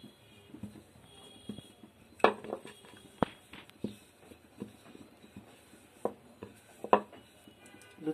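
A rolling pin works luchi dough slicked with hot oil on a board, making soft scraping rubs punctuated by light knocks and taps, quiet and close, with no talking.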